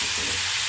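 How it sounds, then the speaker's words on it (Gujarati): Green chillies dropped into hot oil seasoned with asafoetida sizzle with a loud, steady hiss at close range, without a break and with no talking. "હવે 2 ચમચી લીલા મરચાં નાખ્યા છે"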